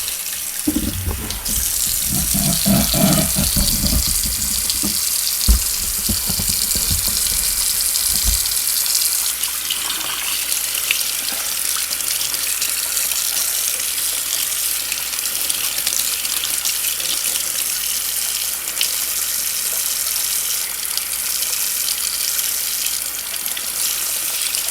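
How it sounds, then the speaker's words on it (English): Water runs steadily from a kitchen tap while tomato seeds are rinsed in a sieve, with heavier splashing and gushing early on that then settles into a constant close hiss. "I'm just going to wash all those seeds and pick out any debris that doesn't wash off like that."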